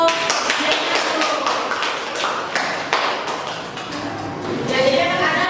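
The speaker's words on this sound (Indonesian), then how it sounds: "kita beri aplaus untuk Diana dulu" Schoolchildren applauding in a classroom, a burst of scattered hand claps and taps that thins out over several seconds, with voices mixed in around the clapping.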